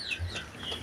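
Chickens near a chicken coop cluck in a few quick, close calls within a short moment, with faint farmyard background.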